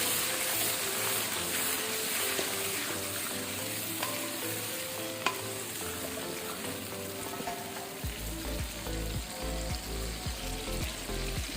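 Grated tomato masala fries in a pan as a spoon stirs it, making a continuous close sizzle with scraping strokes that grow more frequent and rhythmic toward the end. No voices are heard.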